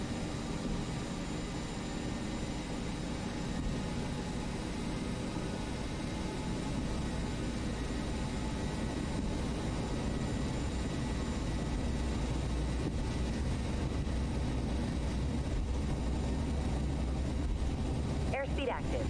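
Airliner engines roar during the takeoff roll in a flight simulator game, a continuous dense rumble holding steady with faint rattling, running alone for the whole stretch.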